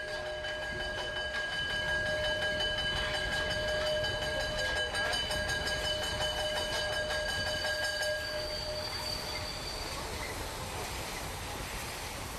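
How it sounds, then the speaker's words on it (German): A steam train pulls into a station, with a steady broad rumble and hiss of rolling wagons and faint tonal whistle-like lines, continuous and moderately loud, no speech. "Einfahrt in den Bahnhof von Lippock-Heintrop."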